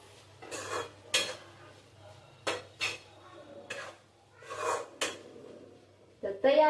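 Spoon scraping and clinking in a pan while mixing Schezwan fried rice, a few irregular metallic scrapes and knocks, close and fairly quiet, with no talk.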